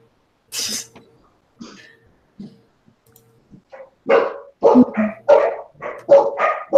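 Dogs barking in a home, a few short scattered woofs at first, then a loud burst of rapid, close barks.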